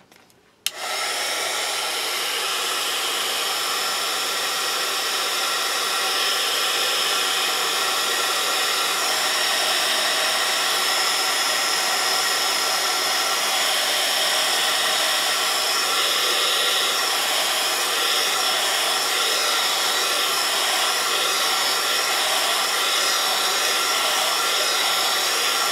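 Hair dryer drying white paint, switched on after a brief click and then blowing as a loud, steady close whoosh that holds unchanged without any voices.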